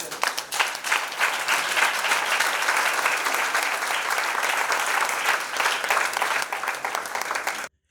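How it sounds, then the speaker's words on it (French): A studio audience breaks into loud, sustained applause, dense clapping that holds steady for several seconds, then cuts off abruptly. "Acclamez-vous."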